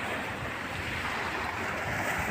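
Sea waves wash continuously along the shore at a beach resort, a steady broadband surf rush with no voices.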